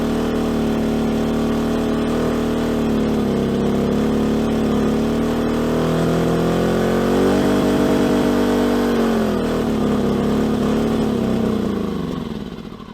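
A-iPower SUA2000i inverter generator running, a steady loud droning engine hum with a slight pitch rise midway before settling and fading at the end.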